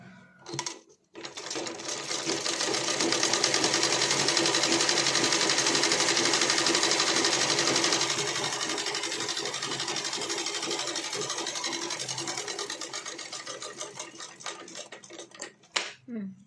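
A sewing machine stitches a blouse, running in a steady, loud mechanical whir for most of the stretch after a brief start, then stopping with a few clicks.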